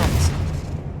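An Expelliarmus spell cast in a Harry Potter video game: a single deep, loud boom with a brief bright crackle near its start, decaying over about a second.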